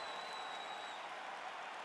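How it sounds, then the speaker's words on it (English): A virtual arena crowd in the EA Sports UFC 4 fighting game applauds between rounds: a steady, fairly quiet wash of clapping and crowd murmur that holds evenly throughout, with no commentary over it. "the crowd voicing its appreciation after that round"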